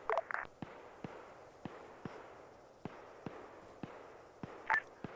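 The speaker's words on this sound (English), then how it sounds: "Shots fired" Distant gunshots in a field setting during a security operation, a steady series of sharp, faint cracks spaced roughly half a second to a second apart, with a couple of louder bursts near the start and end.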